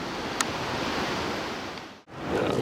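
Kauaikenana river roaring in flood down a Kauai valley, a dense steady rushing wash heard from a lookout, continuous and loud with one brief dropout near the end.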